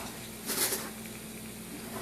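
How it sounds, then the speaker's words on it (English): Pineapple slices sizzle in a hot pan for a pineapple upside-down cake, a steady close hiss with a brief louder crackling burst as they hit the surface. "can you hear the sizzle as those are hitting the hot?"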